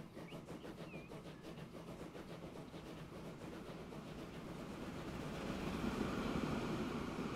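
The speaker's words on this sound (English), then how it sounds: "we're running empty with light wagons here, so we're going to be making more headway than the loaded down train ahead of us" A train in the game Transport Fever 2, running empty with light wagons, rumbles along steadily with a low rolling drone and a faint rhythmic clatter that grows slightly louder toward the end, with no talking over it.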